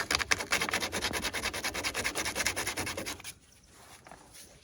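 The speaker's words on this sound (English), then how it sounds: "Now I'm gonna go ahead and take some sandpaper and just kind of sand it off." Sandpaper rubbed by hand over a plastic repair on a 1996 Miata bumper, making quick, even back-and-forth scratchy strokes up close for about three seconds before stopping.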